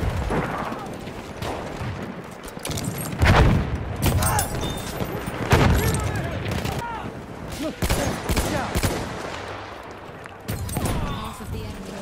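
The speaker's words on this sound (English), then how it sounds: "Machine gun right there." Machine gun fire in the Battlefield 1 video game, with repeated loud, dense bursts and heavy booms running through the whole stretch under shouted voices.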